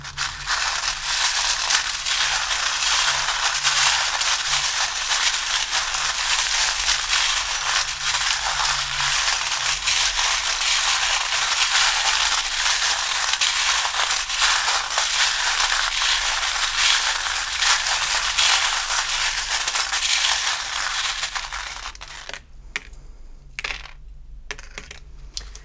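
Charms and dice are shaken and cast for a tarot reading, a dense, continuous rattling clatter of small hard objects lasting about twenty seconds before a few separate final clicks as they settle.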